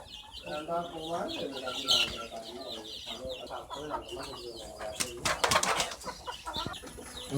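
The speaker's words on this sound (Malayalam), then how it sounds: "ഇതെൻ്റെ നാട്ടുകോഴികളും നാടൻ വലിയ സൈസ് കോഴിയാണ്" Native country chickens, large local birds kept with an Aseel rooster, cluck and call inside a shed, repeated rhythmic clucks with a burst of wing flapping, while someone talks over them.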